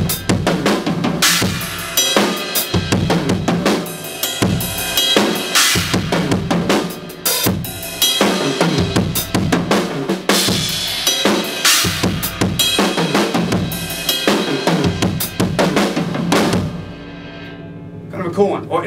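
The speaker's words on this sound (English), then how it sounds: "I could take my right hand on different drums and cymbals and get different sounds like this." Drum kit played in linear patterns, the right hand moving across different drums and cymbals, giving dense, loud, rapid hits with crashing cymbal wash and punchy low thuds throughout, no talking.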